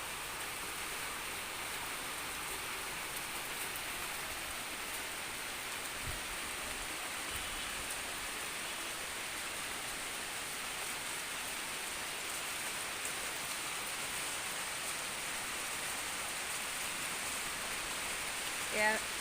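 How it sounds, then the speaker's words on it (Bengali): Steady rain falls without a break, a dense even hiss of drops striking surfaces at close range, holding a constant level from start to finish with a small knock near the end. "দেখুন আমাদের এখানে বৃষ্টি হচ্ছে।"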